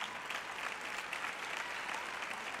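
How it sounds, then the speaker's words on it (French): Audience applause in a church service, a dense, steady wash of many hands clapping, fairly faint and distant, continuing evenly throughout. "vous applaudissez quand je dis que Jésus revient"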